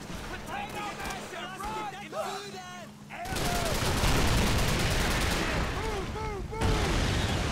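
Rapid bursts of automatic gunfire from a World War II rifle in the Call of Duty 3 campaign, loud and sustained through most of the stretch over battlefield noise, with voices shouting.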